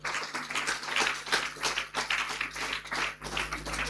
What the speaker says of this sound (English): The clapping continues up to when he gets to the podium.